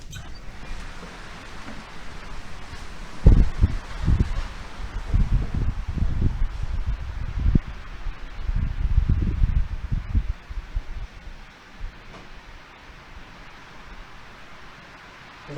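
Wind gusting and rustling leaves through an opened window, a broad airy rush that swells for several seconds and then fades back to a soft background hiss.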